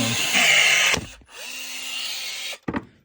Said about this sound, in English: so decided to rivet these on